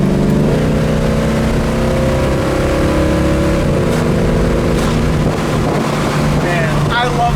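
A 1969 Chevelle SS muscle car engine runs loudly and steadily close by, with deep harmonic drone, a shift in pitch midway and wind buffeting over it, while people talk over the engine.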